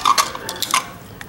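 Knowles china dishes clink and clatter together as they are handled, with a few light, close taps spread over about a second, one near the start and another near the middle.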